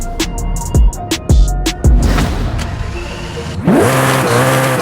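A Koenigsegg Jesko engine in Forza Horizon 5 revs sharply several times in quick bursts, then settles into a loud, rising roar as it accelerates.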